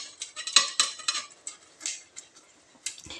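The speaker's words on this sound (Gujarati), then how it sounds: "હવે બાઉલમાં આપણા ખમણીની મદદથી બટેટાને છીણી લઈશું।" Boiled potatoes being grated with a hand grater into a bowl, giving light irregular scraping and clinking strokes, close and quiet, with short pauses between bursts.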